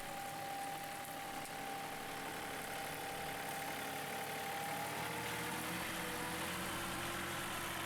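A tractor engine running steadily at close range, a continuous low drone with a faint knocking texture and a slight rise in pitch toward the end, with no voices.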